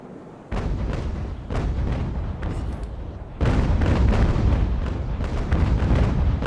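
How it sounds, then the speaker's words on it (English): Sailing warships trade cannon fire in the video game Ultimate Admiral: Age of Sail: heavy booms arrive one after another in rolling broadsides, loud and dense, swelling into a thicker barrage halfway through. "Come on, Murderous Henry, get a shot"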